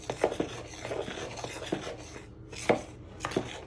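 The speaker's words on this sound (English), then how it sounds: "You're going to use your knife just to slowly start stirring it in." Muffin batter for banana and chocolate chip muffins being stirred slowly with a knife in a bowl, giving irregular close-up scrapes and knocks against the bowl, a few louder taps, with no voices.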